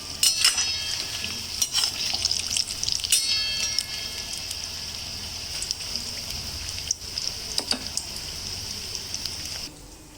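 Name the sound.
batata vada potato fritters frying in oil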